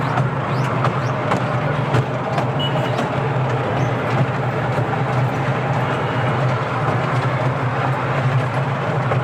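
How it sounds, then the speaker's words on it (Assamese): A small amusement-park ride train in Gandhi Park, Lakhimpur, rumbles steadily along the tracks with continuous low droning and faint rhythmic clatter, heard from inside a carriage. "ইয়াত ট্ৰেইনৰ ভিতৰত আমি গৈ আছোঁ বৰ্তমান"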